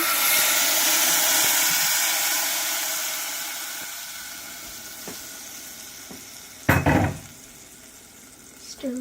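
Tomato puree sizzles and hisses in a hot pan, loud at first and fading a little, with a sharp clank of the utensil against the pan as it is stirred.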